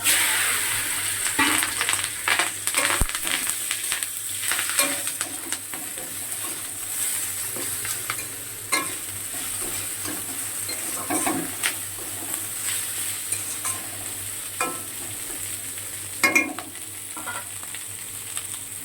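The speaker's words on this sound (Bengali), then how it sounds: "কড়াই তেলও দিয়ে দিয়েছি, এবার এটাকে ভেন্ডিটাকে ছেড়ে দেবো।" Okra (bhindi) frying in hot oil in a wok gives a continuous close hiss and crackle, broken by irregular spatula stirs and scrapes, with a couple of sharper clatters along the way.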